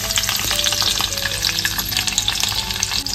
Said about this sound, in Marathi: कढईमध्ये तेल घालून घेतलंय. फोडणीसाठी लसूण घालतोय.